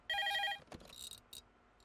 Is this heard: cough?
no